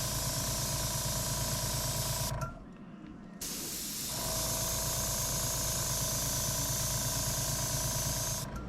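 Spray primer misting onto HeroQuest miniatures, a steady close hiss in two long bursts separated by a short pause, with a faint mechanical hum beneath.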